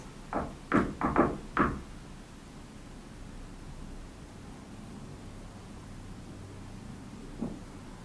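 Knocks caught on a recorder during a paranormal investigation: five quick hollow raps clustered near the start, then a long hiss of background noise and one faint knock near the end.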